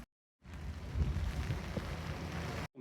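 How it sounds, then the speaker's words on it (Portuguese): Heavy rain pouring down outdoors, a steady dense hiss with low rumbling underneath that holds at an even loudness throughout, without voices. "Chuva dessa."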